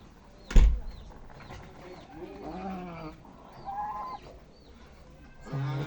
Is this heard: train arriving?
no